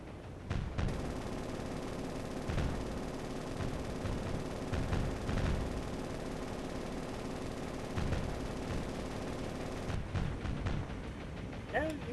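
Aircraft gunfire strafes targets in the naval game War On The Sea, a dense string of rapid cracks and booming impacts continuing throughout at a busy, steady intensity, with a voice speaking over the battle noise.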